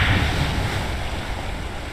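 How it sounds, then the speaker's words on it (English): A spacecraft splashes down into water in Kerbal Space Program, a steady rushing wash of water and wind noise that stays loud and even throughout, easing slightly toward the end, with no talk. "look at this beautiful water as we hit that"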